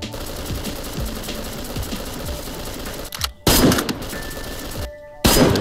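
Rapid gunshots in DayZ, a steady mechanical rattle of fire for several seconds followed by two sharp, loud bursts separated by brief silence.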